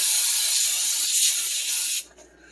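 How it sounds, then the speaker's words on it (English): A steady, close hiss of Pam cooking oil spray from a can runs for about two seconds, then cuts off abruptly, leaving faint room noise. "I'm going to go ahead and spray it with some Pam"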